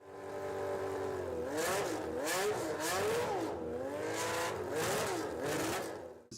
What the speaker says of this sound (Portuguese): O segundo era um barulho inconfundível do motor V12